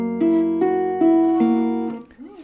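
A fingerstyle acoustic guitar picks a barre chord pattern from STALKER, sustained notes ringing in a steady sequence of four plucks before fading, played alone and close.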